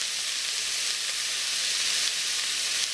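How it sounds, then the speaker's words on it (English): A sandwich frying in a very hot skillet, giving a steady, loud, even sizzle with no breaks and no voices. "Now, it's going to cook on that side a good minute until it's got a nice crust"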